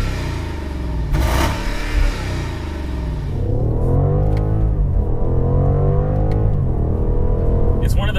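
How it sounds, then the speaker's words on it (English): A tuned BMW M550i V8 engine roars loudly nearby, bouncing against the rev limiter in a rapid stuttering pulse, with someone talking over it. "you'll actually sit on the rev limiter if you're not paying attention like I did just there."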